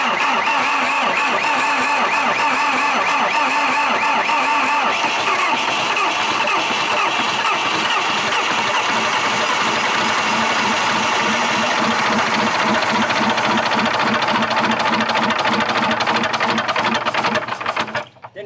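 A TD8E crawler dozer's diesel engine runs steadily and loud throughout, a dense rattling clatter that holds for about seventeen seconds before dropping away at the very end.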